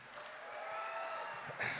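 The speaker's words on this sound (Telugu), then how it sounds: "అందరూ ఒకసారి తనకి క్లాప్స్ కొట్టండి" An audience at a Telugu film pre-release event for Mana Shankara Varaprasad Garu claps together in a steady, faint patter of applause that swells slightly near the end.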